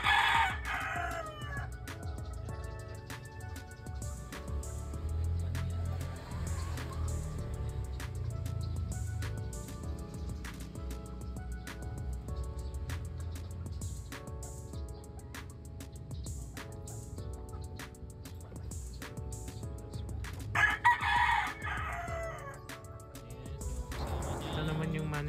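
A three-year-old Moneymaker Dome gamefowl rooster crows twice, one call at the start and another around the twenty-second mark, over a low steady background hum with occasional other fowl sounds in the yard.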